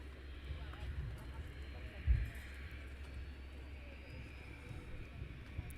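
An EasyJet airliner taxis at foggy Luton Airport, heard only as a faint, steady low engine rumble far off. A soft thump rises briefly partway through, and a voice talks over it.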